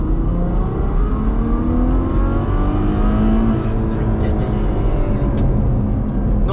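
A Ferrari GTC4 Lusso engine, rated at 690 horsepower, revs and accelerates loudly and steadily, with a smooth climbing whine heard from inside the car.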